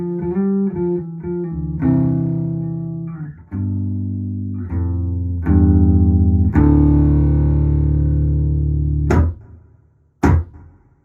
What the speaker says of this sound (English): This is my Hall of Fame 2 reverb pedal from TC Electronic.